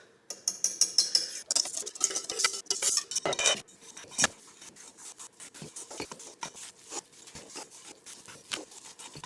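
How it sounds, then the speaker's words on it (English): Clinking and scraping of a utensil against a bowl while mixing a ricotta and egg batter for brunch baking, busy rhythmic strokes that settle into softer, steady stirring, no talking. "I am in the midst of mixing up the ricotta egg portion, and then I'm gonna be folding it into the dry ingredients."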